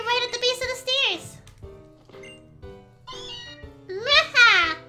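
Meowth, the cat Pokémon in Pokémon Ultra Sun on the 3DS, gives a couple of close, clear meowing cries, with a brief game tone in between.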